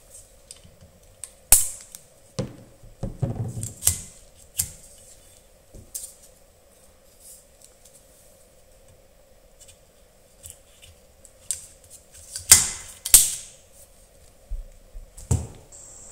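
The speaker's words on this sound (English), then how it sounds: "You'll hear it snap into place, then push down on this clip. As soon as it clicks into position, you're good to go." Wiper blade clip on a 2023 GMC Acadia, a few sharp plastic clicks and snaps scattered among quieter handling noises, close by against a near-silent background.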